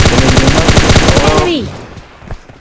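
Automatic gunfire in PUBG Mobile Lite rattles in a fast, loud burst of rapid shots, then breaks off into a fading tail with a faint late noise.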